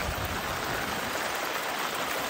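Heavy monsoon rain pours steadily in the Konkan countryside near a pond, a dense, continuous hiss of water with no break or voices.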